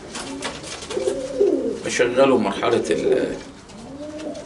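Pigeons in a breeding loft coo steadily in low, rolling calls close by, while someone talks over them throughout.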